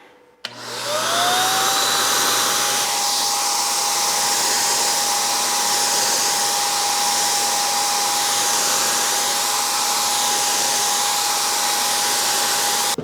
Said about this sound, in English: I need to make some adjustments on my sprayer, but that sure beats putting a roller on the wall all day.